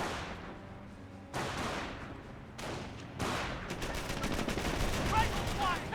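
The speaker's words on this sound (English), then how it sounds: "Rifle squad taking fire." A rifle squad comes under gunfire in Company of Heroes, with several loud bursts of shooting followed by dense, rattling machine-gun fire that builds toward the end.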